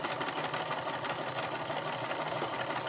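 Sewing machine running a steady straight stitch along the bottom seam of a fabric bag, a fast, even mechanical whirring hum that continues unbroken throughout.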